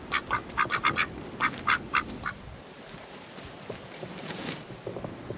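Ducks quack by a backyard pool in the heat, a series of loud rhythmic quacks in quick groups at first, then softer ambient noise with faint patter.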